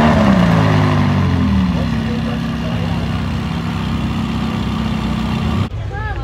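A McLaren supercar idles at an exotic car meet, a steady low engine rumble with chatter and crowd noise over it before it cuts off sharply near the end.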